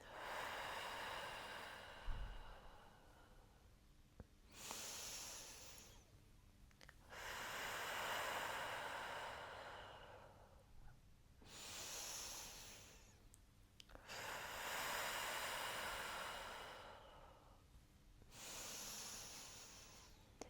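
Slow, deep breathing during a guided exercise stretch: long airy inhales and exhales alternating in a calm, steady rhythm, close and fairly soft, with no talking.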